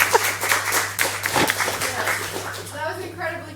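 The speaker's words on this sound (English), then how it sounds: "Can we give him another round of applause?" Audience applause for a climate-frontlines speaker at a mental health panel, scattered claps mixed with voices talking over them, a steady hum beneath and fading toward the end.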